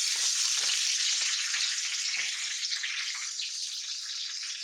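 Fish heads fry in less than half a cup of hot oil, giving a loud, continuous high sizzle with occasional small pops and crackles, steady from start to finish.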